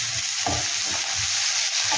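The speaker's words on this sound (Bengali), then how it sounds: "এবার পেঁয়াজটা একটু ভাজা ভাজা হোক" Onions frying in hot oil while cooking mutton liver, a loud, close, continuous sizzle and crackle with a few soft spatula scrapes, no voices.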